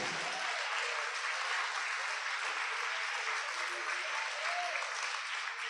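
A church congregation applauding together during a service, steady dense clapping from many hands sustained evenly throughout, heard from within the hall with no voice over it.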